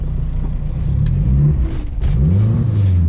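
A turbocharged K20-swapped Honda Civic hatchback revs hard under throttle, its engine note rising and falling in loud, close surges with a deep rumbling exhaust.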